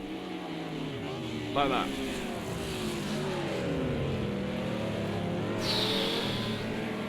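An Audi GT race car in Project Cars 2 at Hockenheim Classic, racing in wet weather, lets its engine revs fall and rise in sweeping whines, with a commentator talking over it.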